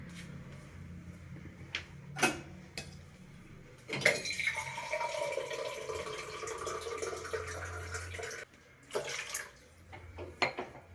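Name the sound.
pouring water to make a healthy drink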